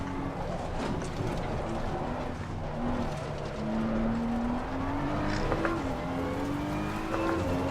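A GT3 race car engine in the Assetto Corsa Competizione racing game, driven at Spa, drones steadily and rises in pitch through the gears, with a sustained moderate roar and no talking.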